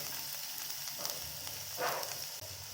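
Finely chopped onion drops into hot oil with a pinch of asafoetida and sizzles steadily, with a brief louder hissing burst partway through. No voices.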